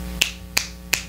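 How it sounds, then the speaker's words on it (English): Three crisp finger snaps ring out alone at an even, unhurried pace, close and sharp, over a faint low room hum, in a singing session. "Snap your fingers for me."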